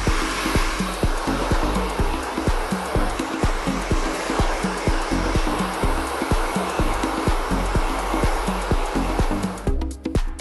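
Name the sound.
hair dryer power drying hair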